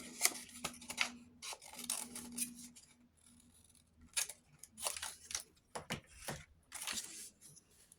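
Scissors cutting fabric while making a tam, heard as a series of close, quiet snips and crisp blade closes in irregular bursts, with soft rustling of material between cuts.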